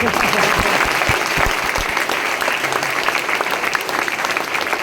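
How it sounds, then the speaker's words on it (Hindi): A crowd at an RCM meeting in Nadiad claps loudly, dense applause at full strength throughout, with a voice faintly underneath. "एक बार फिर से ताली बजा दीजिए।"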